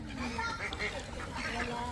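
Wild ducks quack in a garden, several calls scattered over a steady murmur of nearby people talking, the birds moderately close and fairly faint.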